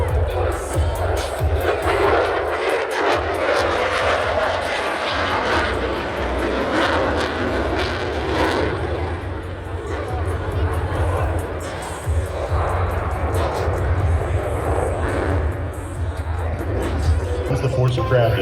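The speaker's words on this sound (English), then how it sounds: "Here is the 4-point roll." An F-35C Lightning II jet roars overhead during a four-point roll at an airshow, a loud sustained engine rumble with crowd noise and talk mixed underneath.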